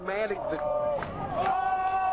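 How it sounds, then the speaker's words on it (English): Large crowd of about a thousand protesters at a Baltimore demonstration, voices massed together in a loud, continuous roar with rising shouts, heard close and steady throughout. "The crowd is growing, Maureen."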